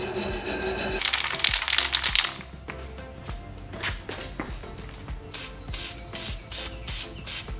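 A wire brush scrubs rusty metal on a utility trailer in bursts of harsh scratchy strokes, loud at first and then in quicker repeated rasps, close by with no talking.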